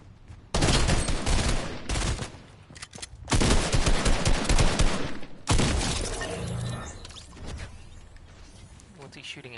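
A bot in the video game Fortnite fires loud bursts of rapid automatic gunfire, three long volleys in quick succession with short gaps between them.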